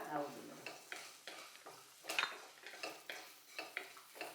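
Spices and green chilies frying in a pan, heard as gentle sizzling with a spoon scraping and stirring in repeated strokes about every half second, close by and fairly quiet.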